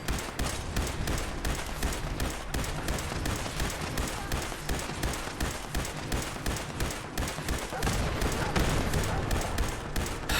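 Rapid gunfire from the video game Fallout 76 rattles in dense, repeated bursts, with a steady stream of shots and a few heavier thuds across the scene.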